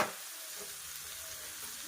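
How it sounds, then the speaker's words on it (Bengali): Green chillies, onion and garlic fry in oil in a pan, a soft, even sizzle that hisses continuously for the whole stretch, close and alone. "কাঁচা লঙ্কা, পেঁয়াজ আর রসুনটাকে একটু ভাজা করে নেব"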